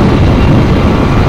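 Motorcycle engine fitted with a tuned TM34 carburetor, held at 7000 RPM during a test ride, a loud, dense, steady roar close by, brief and unbroken.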